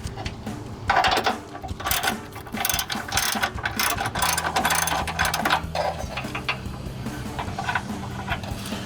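Rapid, close ratchet clicking in repeated bursts as bumper bolts are loosened on a Jeep Gladiator JT, continuous mechanical clatter throughout.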